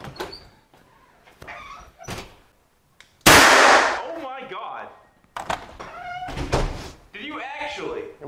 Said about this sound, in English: I'm gonna go shoot this and see if it works